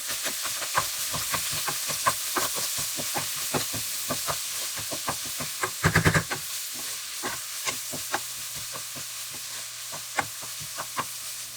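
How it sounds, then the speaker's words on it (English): Ground meat fries in a pan with prepped onions and peppers, a continuous close sizzle broken by frequent clattering scrapes as a utensil stirs, with one brief burst of louder scraping midway. "I have some onions and peppers that I already prepped up in the beginning, and I'm going to be cooking them with the meat"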